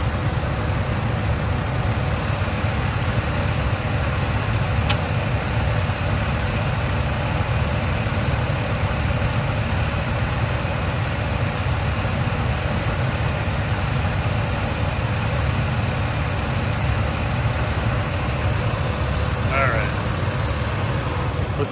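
A 2006 Jeep Wrangler X with the 4.0L engine and six-speed manual idles close by, a steady, even low rumble that holds unchanged for over twenty seconds.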